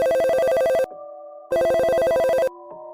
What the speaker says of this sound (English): Suddenly, I heard the regular ring of the desk phone.